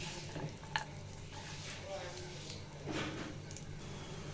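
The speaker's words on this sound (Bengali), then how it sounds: "কাঠবাদামগুলো ঘিয়ে ভেজে নিব" Almonds and cashews fry in ghee for a shemai dessert, giving a soft, continuous sizzle broken by a few light scraping stirs of the pan, all fairly faint.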